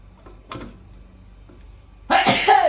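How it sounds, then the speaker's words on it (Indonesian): After a few soft clicks and a quiet lull, a person gives one loud, close sneeze near the end. "Nah, aku sekarang bersin."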